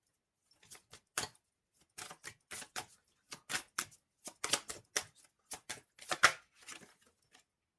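Tarot cards are shuffled and drawn in a quiet room: a series of close, crisp flicks and riffling snaps in uneven bursts, some quick clusters and some lone slaps, with no talking.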